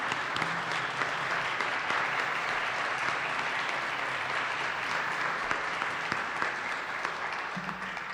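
An audience at a district candidate forum claps steadily for several seconds, a dense, even round of applause filling the hall.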